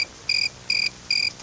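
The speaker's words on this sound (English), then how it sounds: "Crickets." Crickets chirp in three evenly spaced bursts of shrill, high trills, each lasting about a quarter second and separated by brief gaps, clear and fairly close against a quiet background.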